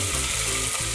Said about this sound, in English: So now I'll just have to brown the onions.